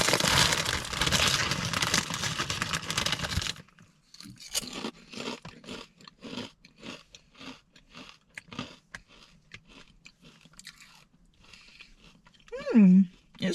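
Vodka sauce pizza flavoured crisps are eaten close up: a loud stretch of packet rustling, then a run of sharp, rhythmic crunching bites and chewing.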